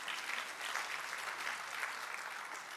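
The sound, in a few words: congregation applause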